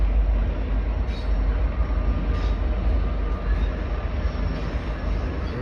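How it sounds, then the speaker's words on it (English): A train rumbles past near a Detroit stop in a steady, loud, broadband roar that stays constant for several seconds, with faint voices mixed underneath. "The only downfall, a train. This happens every few hours."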